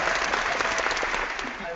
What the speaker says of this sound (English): Here comes your applause.